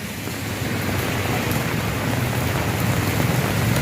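Steady rain falls at a Chinese temple in Laos, a dense, even hiss of drops on surfaces that holds at a constant moderate level throughout, with no voices.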